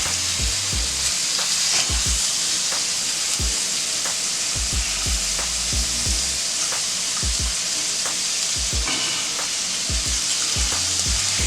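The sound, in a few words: bacon frying in a pan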